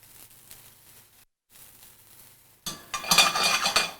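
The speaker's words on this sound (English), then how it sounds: "We're just going to take a little butter, put that in the pan," Butter swirled in a hot frying pan sizzles quietly after soft clinks and stirring at first, then breaks into a brighter, louder crackle near the end.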